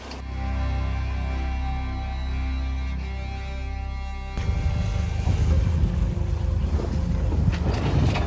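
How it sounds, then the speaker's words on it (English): A sailboat running downwind through swell off Croatia, with steady wind noise and rushing water against the hull; the sound shifts partway through to rougher, louder splashing and buffeting, and no one speaks. "Sailing more downwind now, but because of the swell, it's not going too well."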